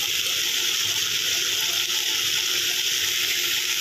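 Spice paste mixed with water poured into a hot pan while cooking pointed gourd in oil, a steady continuous gush of liquid with sizzling hiss throughout, close and fairly loud.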